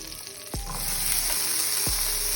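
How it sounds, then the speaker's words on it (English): Defrosted corn warms in melted butter in a hot pot, giving a steady close sizzle with a couple of low knocks from the pot, no voices. "We get our pot hot. We're gonna add some butter. And we're going to take our corn that we let defrost."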